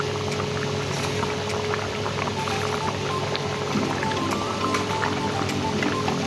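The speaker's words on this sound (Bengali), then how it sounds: "ঝোলটা প্রায় ফুটে এসেছে।" Prawn malai curry with coconut milk simmering in a pan, giving a steady, close bubbling and soft crackle that stays even throughout with no pauses.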